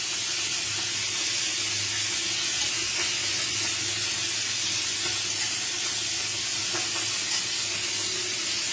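Fish frying in oil in a pan for a sour tamarind fish curry, giving a steady, close, continuous sizzle with a few faint clinks, with no voices.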